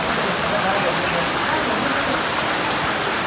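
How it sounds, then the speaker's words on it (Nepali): Rain falls in a dense, steady hiss on a Darjeeling tour, a close, even wash of drops with no pauses. "पानी परेर झ्याउ भयो"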